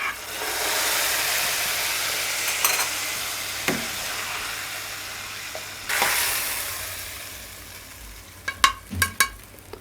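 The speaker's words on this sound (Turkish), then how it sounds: "Sonra yemeğimizin içine boşaltıyoruz bu şekilde." Hot mint-infused butter is poured from a pan into a cooked yogurt dish, giving a strong sizzling hiss that fades, followed by a few clinks and knocks near the end, with no talking.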